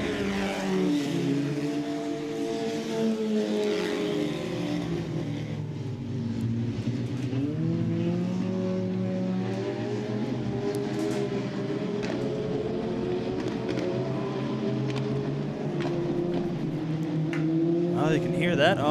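Mini stock race cars roar around the dirt oval at Southern Ontario Motor Speedway, one with motor trouble. Engine drone rises and falls continuously under a commentator talking over the track.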